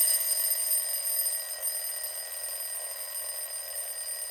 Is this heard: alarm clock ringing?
yes